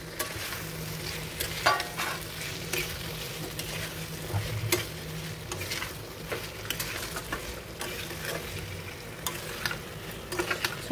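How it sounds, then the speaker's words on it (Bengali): Potatoes and pointed gourd stir-fry in a pan for a Bengali posto dish, with a steady sizzle under repeated scraping and stirring strokes throughout, fairly close and moderate in level, no talking. "দিয়ে প্রায় 5 থেকে 7 মিনিট ভালো করে একটু কষাবো"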